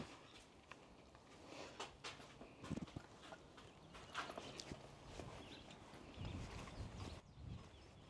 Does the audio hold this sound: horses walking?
yes